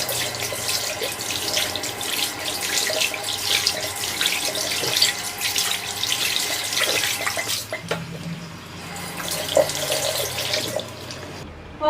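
Water running steadily from a tap into a sink while a face is rinsed, a loud, close, continuous splashing stream with shifting spatter, easing toward the end before a brief final splash.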